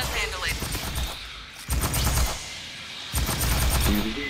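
Gunfire from the video game Aliens Fireteam as players shoot aliens: loud, sustained bursts of rapid automatic fire in several long volleys separated by brief pauses, with game sound mixed in.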